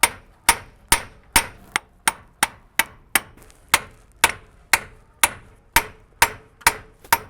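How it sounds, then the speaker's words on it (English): A hammer strikes a pry bar or chisel to knock a CV axle loose, giving about sixteen sharp, close metallic blows at a steady rhythm of roughly two per second, each with a short ringing decay. "we're gonna hammer this out slowly."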